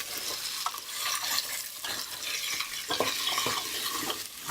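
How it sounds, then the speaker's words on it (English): Garlic, shallot and chopped ginger sauteing in a pan, a dense close sizzle with stirring scrapes and light crackles throughout, no voices. "So we're just gonna let that saute down for a couple minutes."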